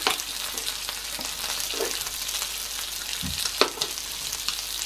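Breakfast food frying in a pan, a steady close sizzle with occasional pops and stirring scrapes, no talk.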